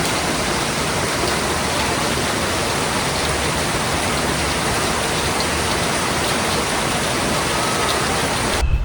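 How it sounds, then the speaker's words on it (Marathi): Steady rain pours continuously, a dense, even hiss holding at the same level throughout. "मस्तपैकी पावसाची हजेरी आपल्या इथे लागलेली आणि मस्तपैकी पाऊस पडलाय."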